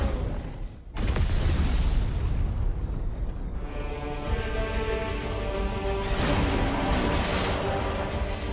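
Rocket explosions in the video game Final Fantasy XVI: a heavy booming blast erupts and rolls into a sustained, loud roaring rumble with a mechanical drone that continues to the end.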